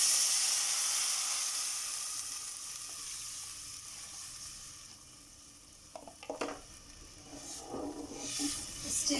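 Chili and batter sizzle steadily in hot oil on a low flame, a dense continuous frying hiss joined near the end by a few louder bursts of stirring and spattering.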